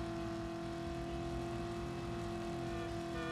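A steady car engine in the PS1 game Driver drones at constant revs, a dense, even motor hum that holds without pause from start to finish.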